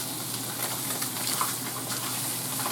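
Fish with herb seasoning fries in a skillet, giving a soft, continuous sizzle with faint scattered pops, steady and fairly quiet throughout with no voices.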